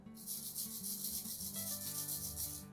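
Beans and rice seeds shaken in a homemade recycled percussion shaker, giving a close, continuous swishing rattle in even pulses.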